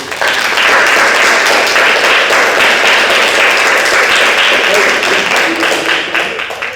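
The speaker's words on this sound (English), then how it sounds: "So, round of applause for Valeria." Sustained, dense applause from a Q&A audience, steady and loud for several seconds before tapering slightly at the end.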